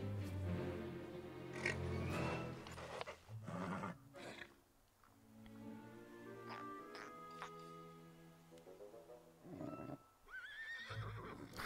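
A horse in the Kingdom Hearts 3 video game gives loud, drawn-out whinnies and snorting neighs, several bursts over a game soundtrack with quieter gaps between them.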